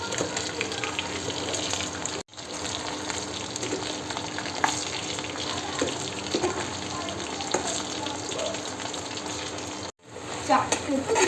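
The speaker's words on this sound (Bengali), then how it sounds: "চিলি মাশরুম ভাজা হয়ে গেছে" Chili mushroom pakoras fry in refined oil in a home kitchen, giving a steady close-up sizzle and crackle with faint clinks and stirring. The sizzle breaks off twice briefly, and soft voices can be heard in the background.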